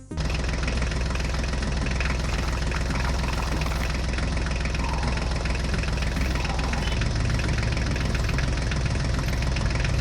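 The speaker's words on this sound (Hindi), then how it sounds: "चलो चलो बच्चों, अब ट्रैक्टर गाड़ियों को लेकर चलते हैं।" A mini tractor engine running while driving, a loud steady diesel-like idle with continuous knocking and vibration, close and unbroken throughout.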